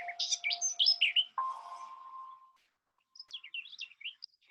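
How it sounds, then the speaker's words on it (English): Birds chirp and warble close by in quick bursts, with a steady whistled note in between, then a short pause before more chirping. "You can hear birds."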